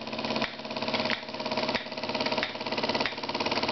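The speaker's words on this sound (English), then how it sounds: "A little slide valve engine with a slip eccentric." A small slide valve steam engine with a slip eccentric runs steadily, giving a continuous rhythmic chuffing with regular beats close by and no talk.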